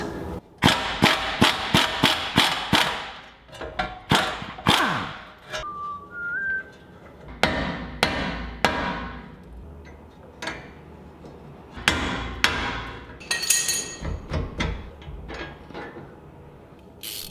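Old upper control arm coming off a 5th-gen Toyota 4Runner: a series of loud, close metallic knocks and clanks in irregular bursts, with a brief squealing whistle partway through.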